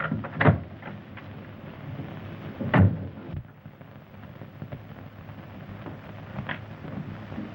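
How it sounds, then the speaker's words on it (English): A door opens with a couple of dull clunks and a brief rattle against a low, steady background rumble. No one speaks. "Hey, Joe, open this door."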